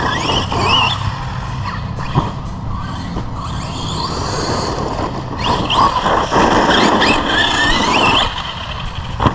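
An Arrma Kraton 4S RC basher car drives and handles hard, its electric motor whining and rising in pitch with tyre squeals and skids, loud and continuous throughout, with no talk.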